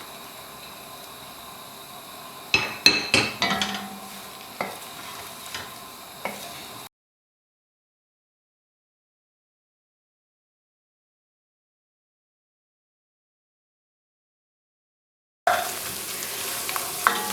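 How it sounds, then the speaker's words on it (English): Onions fry in a pot with a low, steady sizzle, broken by a cluster of sharp stirring knocks and scrapes, then a long stretch of total silence before the sizzling returns. "I'm just going to add the onions to let them soften up a bit"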